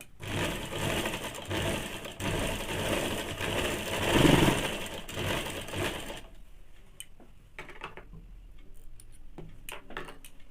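A sewing machine stitches a thin blouse strip in a fast, steady whirring run that stops abruptly partway, followed by quieter clicks and handling sounds.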